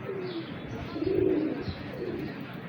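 High-flying parwazi pigeons give a soft, low coo in one brief swell, close by, over a steady background hum.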